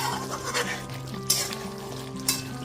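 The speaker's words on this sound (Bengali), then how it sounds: "এইবার ওপর থেকে নিচে খুব ভালো মতো একটুখানি নেড়ে নিচ্ছি।" Yogurt-marinated mutton being stirred in a pan of released liquid for a Bengali meat curry with potatoes, giving soft scraping and faint sizzling, with a couple of sharper clinks of a utensil against the pan.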